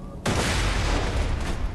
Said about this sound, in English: Hit with a grenade, nice one.